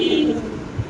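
Young fancy pigeons at a farm, including Mundian and blue bar birds, give a brief close coo with a bit of background fluttering and murmur.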